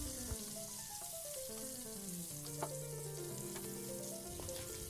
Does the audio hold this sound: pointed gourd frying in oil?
yes